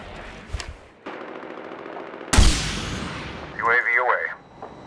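Bursts of rapid gunfire from a multiplayer match of the video game Medal of Honor Warfighter, with a loud blast midway and radio-like voice chatter near the end.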